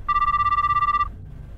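A telephone rings once in a video game set in a karaoke place, a steady electronic trill lasting about a second, clear and close, then stops, leaving low background hum.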